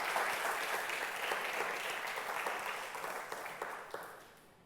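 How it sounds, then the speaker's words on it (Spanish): Congregation applauding the Lord during a Spanish-language church service, a dense steady wash of clapping from many hands that thins and fades out toward the end. "Dele un aplauso al Señor"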